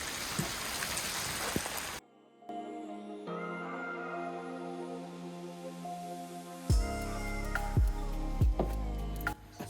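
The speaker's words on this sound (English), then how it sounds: "it's absolutely bombing it down of hail" Heavy hail pounds down outdoors in a dense, steady roar for roughly the first two seconds, then gives way to quieter, unrelated tonal sounds.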